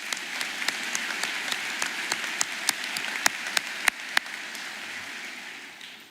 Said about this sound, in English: That's the part we clap.